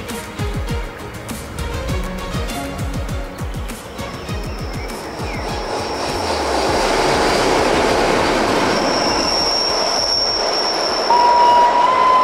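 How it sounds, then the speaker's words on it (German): An empty Rhaetian Railway train rolls past, starting with rhythmic clickety-clack wheel beats over the rails. The sound then swells into a louder rushing rumble, and a high wheel squeal rises near the end. "Leerzug vorbei."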